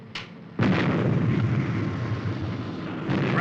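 A weapon fires from Supercar with a sharp onset and a heavy booming explosion that rolls on loudly for several seconds, then a second burst starts near the end.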